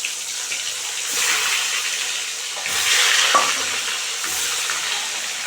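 Bhangor fish, with heads and tails, sizzles in hot oil with a steady crackling hiss that swells at times, plus a brief utensil clink.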